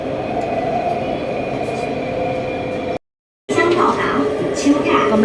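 A subway train runs steadily with a low rolling rumble and a faint tonal whine. After a brief dropout, the sound returns brighter as the train arrives at a station, with a voice and some screeching above the steady rumble.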